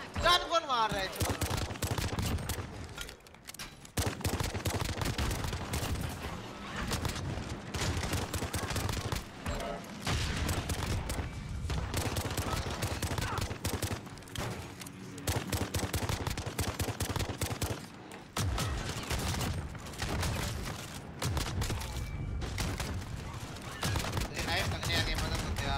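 Dense, rapid gunfire in a Call of Duty Modern Warfare infected match, with repeated bursts of automatic weapon shots and brief pauses across the span, loud and close, with players talking over it.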